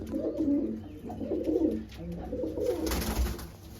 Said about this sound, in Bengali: একটা কালাঙ্কা জোড়া আছে খুবই ভালো পায়রা